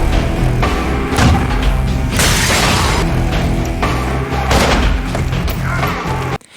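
Gunfire aimed at a car, followed by the car overturning: dense, loud bursts of booms and crashing impacts in a continuous chaotic action mix.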